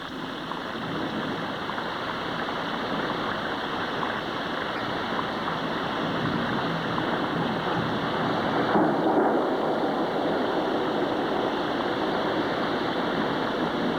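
Heavy tropical rain pours down in the Amazon rainforest, a dense, continuous hiss and roar of falling water that stays loud and steady from start to finish, with no voices.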